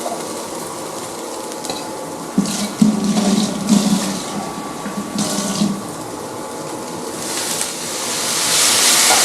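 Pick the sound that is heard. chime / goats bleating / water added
water added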